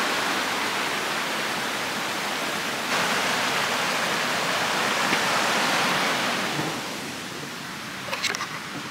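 Bog River Falls pours in a steady, full roar of rushing water running higher than usual, broadband and close throughout, with a few faint sharp clicks near the end.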